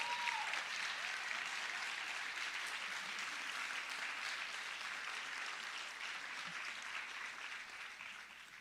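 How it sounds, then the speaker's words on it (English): A large crowd at a city state-of-the-city event applauds city workers and contractors. The clapping is soft and distant and holds steadily, fading slightly toward the end. "Give these folks a round of applause"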